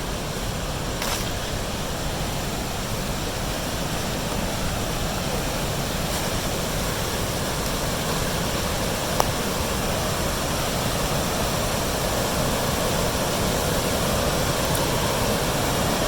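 Water roars through an old river lock on the Muskingum River, a loud, unbroken broadband rush holding steady throughout with no voices over it.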